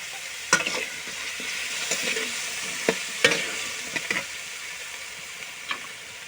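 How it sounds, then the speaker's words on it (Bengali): Stir-frying in a pan for a green pea dish: steady frying sizzle with a series of sharp spatula scrapes and clanks at irregular intervals, close and moderately loud. "ভালো করে কষবো, মানে নাড়বো"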